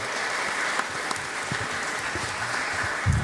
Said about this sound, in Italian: a voi chiedo un grande applauso